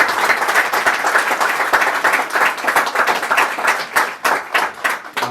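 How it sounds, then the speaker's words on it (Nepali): Enthusiastic audience applause for an author at a Christian youth book release event, dense rapid clapping from a crowd close by, sustained and loud throughout with no talking. "एकचोटि लेखकज्यूलाई जोरदार ताली बजाइदिनुहोस्"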